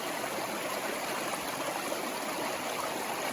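A river rushing over slick, smooth rocks at a trail crossing produces a continuous, even, close stream roar with no voices.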